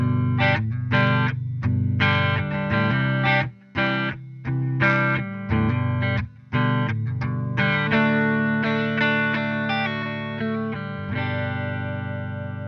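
An electric guitar played through a Coppersound Polaris chorus pedal with its focus knob at zero: chopped chords, then a sustained ringing strum that slowly decays, with a slightly rougher, less swirling tone and no voices.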